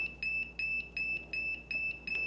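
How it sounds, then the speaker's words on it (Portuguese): A Novus N20K48 temperature controller alarm goes off, sounding a clear high-pitched electronic beep that repeats in regular pulses about every third of a second, faint steady hum underneath and no talking. "esse alarme ele foi acionado pela diferença de temperatura entre set point e PV"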